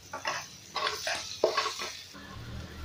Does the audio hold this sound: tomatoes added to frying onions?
yes